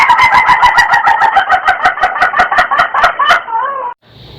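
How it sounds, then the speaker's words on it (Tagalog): A rooster crows loudly and close, its repeated rapid pulses forming a long cock-a-doodle-doo used as a sound effect in a radio drama intro, cutting off abruptly into near silence. "Teka lang Marvin, bakit may manok sa intro?"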